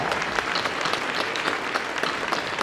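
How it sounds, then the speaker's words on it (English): Dense, steady applause from a luncheon audience at a county Republican committee Lincoln Day event fills the whole stretch, loud and even with no voices over it. "let's give these people a big round of applause"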